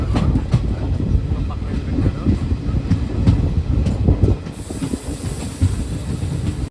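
A Villupuram Intercity Express train rumbles and clatters steadily close by, with a continuous rushing roar and faint hissing throughout.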